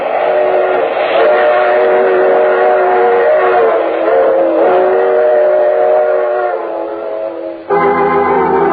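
A train sound effect in an old radio drama: a loud, continuous rumble of a moving train with whistle-like tones throughout, then a sudden shift to a brighter, steadier whine near the end.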